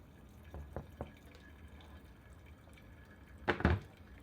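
Hot water just off the boil draining through a Kalita Wave coffee filter, giving a few soft separate drips early on, then a louder splash and clatter of liquid near the end in a quiet room.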